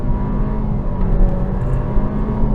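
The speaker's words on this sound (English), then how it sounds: "It's a little bit drony when you're just mashing the gas, but you definitely feel the quickness of this vehicle" A 2023 Acura Integra A-Spec with a CVT pulls hard under full throttle, its engine holding a loud, steady, droning hum with little change in pitch, heard from the cabin without speech.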